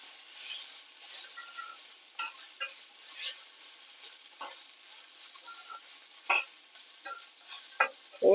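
Mint leaves roast in a pan with a faint, soft crackle, broken by intermittent scraping stirs and a few sharper clicks, with no voices.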